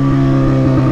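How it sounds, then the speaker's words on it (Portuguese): A motorcycle revs loudly close by, a steady, strong engine drone with prominent low harmonics holding throughout the brief moment. "O motoca passa causando, né, mano?"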